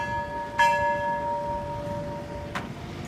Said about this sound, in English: Bell ringer, strike 2 bells.